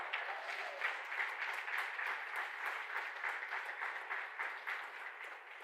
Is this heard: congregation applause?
yes